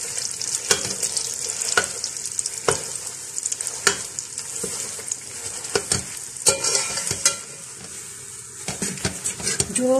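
Chana dal halwa is stirred and fried in oil in a pan. A spoon scrapes and clinks against the metal in irregular strokes over a soft, continuous sizzle, close and clear with no voices.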